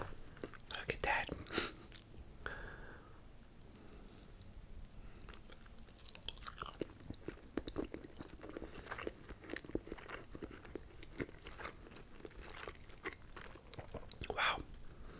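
Close, soft chewing and squishy biting of tender Boston Market barbecue ribs in a rib sandwich, with wet mouth sounds and occasional crunchy bites spread across the clip, quiet whispery breaths in between.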